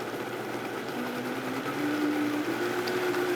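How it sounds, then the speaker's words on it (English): A food processor blending salad dressing hums steadily at low speed, its motor pitch creeping upward as it runs, fairly quiet and alone without talk. "any other type of food processor that can quickly blend all this together"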